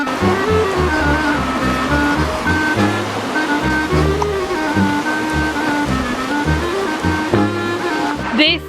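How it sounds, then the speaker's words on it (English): Trickling mountain streams and small waterfalls along a rough hiking path, a continuous dense rush of flowing water with a low rumbling undertone, steady and fairly loud throughout. "we can hear the water, we can see these trickling streams"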